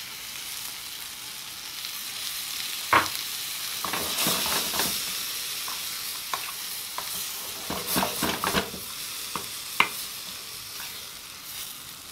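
Beans and eggs frying together in a pan, a steady sizzle with sharp scraping stirs and clicks of the utensil against the pan at irregular moments, close and fairly loud.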